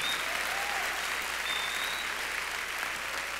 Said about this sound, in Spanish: Fuerte ese aplauso a Jesús.